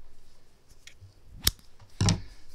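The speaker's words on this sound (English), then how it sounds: "cut your yarn," Scissors cut through yarn at the end of a crocheted scarf, heard as two crisp, close snips about half a second apart against a quiet background.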